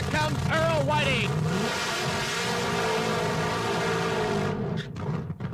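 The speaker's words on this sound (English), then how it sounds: "And here we go with the first pair of Top Fuelers here at Firebird" Supercharged nitromethane Top Fuel dragsters at a Firebird drag strip roar loudly and close by, a thick sustained engine blast with sweeping pitch changes early on, before the noise drops away abruptly near the end.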